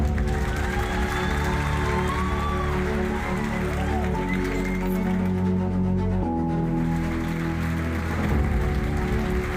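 Audience applause at the closing ceremony of the St. Gallen Symposium as speakers are welcomed on stage, a loud, steady patter of many hands clapping, sustained without a break under some music or hum.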